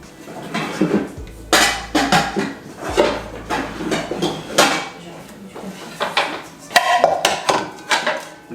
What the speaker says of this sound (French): les casseroles sont là